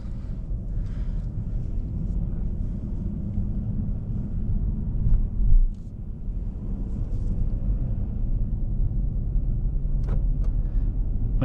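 A 2023 Dodge Challenger GT drives along on a mild spring day in Butler, Pennsylvania, heard from inside as a steady low engine and road rumble with light wind, no talking.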